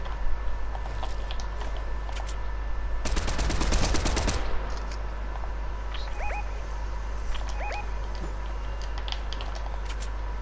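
Bursts of rapid automatic gunfire in an online shooter video game ring out loud and dense for about a second, followed by a quieter stretch with faint, scattered game effects over a steady low hum.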